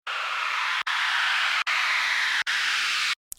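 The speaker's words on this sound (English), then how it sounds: "So the risers we're using are just simple risers like this." A bright white-noise synth riser swell for a dubstep buildup, repeated four times, each surge cut off abruptly by a brief gap, ending in a short burst.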